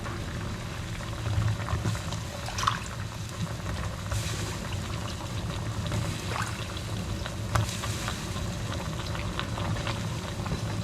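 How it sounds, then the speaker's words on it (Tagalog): Water bubbling at a steady boil in a pot, a continuous low churning with occasional clinks and splashes, no voices. "kumukulo na po siya"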